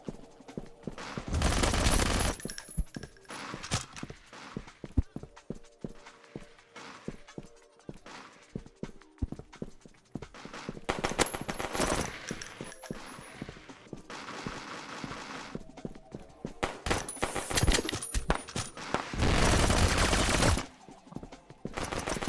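Video game gunfire in several loud automatic bursts, with short gaps and scattered lighter shots between them.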